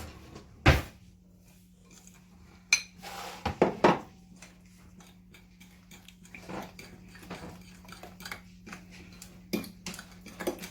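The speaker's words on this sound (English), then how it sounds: "I'll mix all this together with a fork." A fork mixes homemade keto mayonnaise ingredients with flaked salt, garlic and oregano in a bowl, making sparse close clinks and knocks against the bowl with quiet gaps between them.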